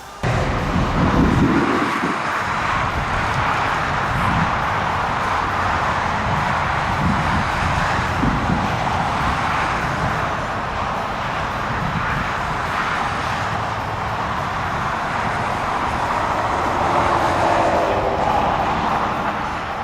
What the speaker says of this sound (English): So right now I'm in the Argo Avenger Huntmaster, equipped with the 18-inch tracks